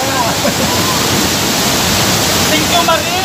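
Ukab Falls pours heavily after a typhoon, a loud, unbroken roar of rushing water filling the whole stretch at close range.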